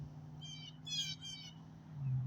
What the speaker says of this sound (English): You can hear the birds and everything singing in the background